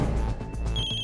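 A mobile phone ringing in a house at night, an electronic ringtone with a steady high tone sounding over a low hum, short and fairly close.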